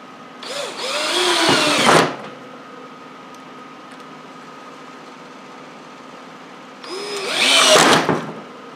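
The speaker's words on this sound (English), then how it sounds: "I had grabbed some tiny little drywall screws to screw this box down." A power drill drives small drywall screws into an electrical box for an exhaust fan install, two loud close bursts of whirring motor and screw bite separated by a quiet gap of room noise.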